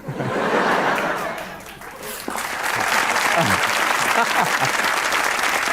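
A talk-show studio audience claps loudly and continuously, with a few chuckles mixed into the sustained applause.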